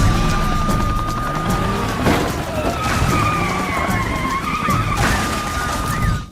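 A 2006 Ford Mustang skids hard during a police chase, tires squealing in long wavering screeches over a loud engine roar, with a person talking underneath.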